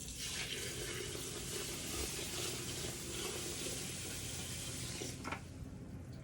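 Warm water poured from a bucket into a container to hydrate rye grain, a continuous close, steady splashing rush that tapers slightly near the end.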